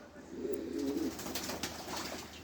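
A short, low pigeon coo sounds near the start, followed by soft splashing and rustling from nearby pet birds bathing.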